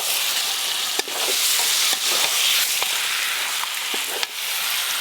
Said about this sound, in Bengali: এবার সেদ্ধ করে রাখা মটনগুলো দিয়ে দেবো।